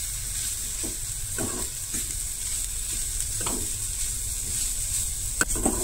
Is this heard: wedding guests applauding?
no